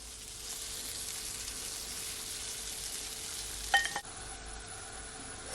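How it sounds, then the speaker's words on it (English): French toast sizzles and fries in melted butter in a pan with a steady, close crackle. A brief clatter sounds near the end, and no one speaks. "so now that my butter is melt, I'm gonna take my time and add my French toast, and you're just gonna allow it to brown up"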